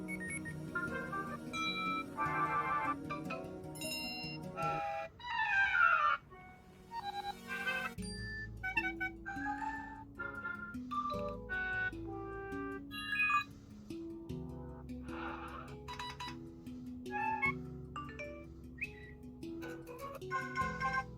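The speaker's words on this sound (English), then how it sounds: "Let's also go through the alert tones." A run of short iOS 6 beta phone alert chimes and melodic jingles, one after another with brief gaps, clear and close with no talking.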